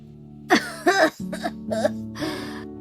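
A few rough, throaty coughs and throat-clearing sounds in quick succession, close and fairly loud, from a voice.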